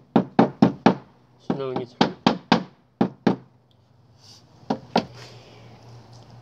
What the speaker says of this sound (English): Any nails that pop through, we'll just bend those over